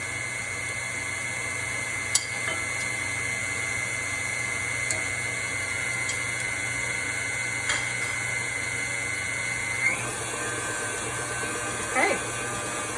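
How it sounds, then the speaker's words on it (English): An electric stand mixer hums at a steady, moderate level as it beats butter into pastry cream, with a few faint clinks and knocks over the continuous drone. "I'll turn my mixer up just a smidge."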